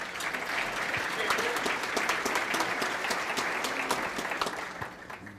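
A luncheon crowd at a chamber of commerce community event gives a sustained round of applause, dense even clapping that holds steady and tapers slightly at the end.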